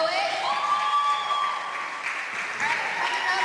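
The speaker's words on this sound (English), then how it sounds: "Everybody applaud that poet." An audience at a high school slam poetry competition applauding a poet, sustained loud clapping mixed with cheers and crowd noise, heard in a large room.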